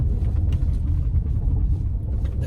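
Ford Bronco Sport SUV driving off road on trails in Tennessee, a low continuous rumble of engine and tires with small knocks and jolts, close and steady.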